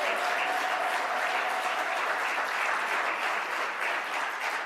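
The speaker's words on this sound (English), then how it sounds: "So please, another round of applause for Corina, please." Sustained, dense applause from a conference audience at an international gathering in support of Cuba, loud and even throughout with no speech over it.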